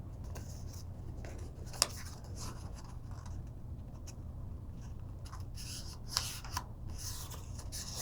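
Paper being creased and folded into an origami butterfly, soft close rustles and rubbing strokes with a couple of sharp crinkling snaps.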